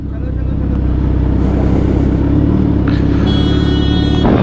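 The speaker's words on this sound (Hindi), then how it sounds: "मथुरा में भाई डिवाइडर पे चल रही है भाई गाड़ी, भाई पूरा पीछे तक जाम है भाई दोस्त" A car crawls through a traffic jam on a muddy road in Mathura, giving a loud, steady low engine rumble close by that swells slightly midway, with faint hiss and clatter.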